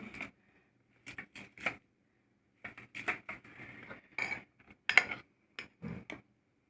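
Pink and brown marble cake batter being mixed in a bowl, heard as quiet, scattered clicks and scrapes of a utensil against the bowl in short irregular bursts, with no talking.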